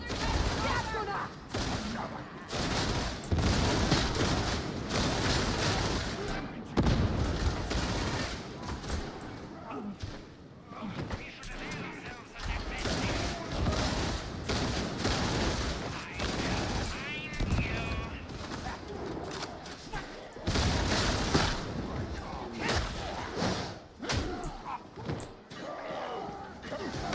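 Enemy sniper and gunner fire from Warhammer 40K: Darktide comes as repeated loud gunshot bursts and slamming impacts. Game voices and a player talking run over the chaotic, dense firefight.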